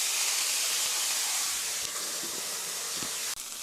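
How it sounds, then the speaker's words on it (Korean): Welsh onion and green bell pepper stir-fry in a pan with a continuous, broad hiss and sizzle, fairly loud and steady, with a few faint knocks and no talking. "3분 정도 볶아주세요"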